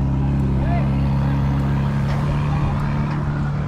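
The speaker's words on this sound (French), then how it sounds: "on va faire un petit tour de bateau" A motorboat engine drones steadily with a low rumble and rushing water on a boat ride in Pakistan, while a voice speaks in French over the noise.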